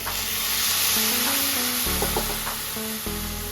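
Hot water poured into a pan of fried rice, a steady loud sizzle and bubbling hiss running throughout with a few faint clinks.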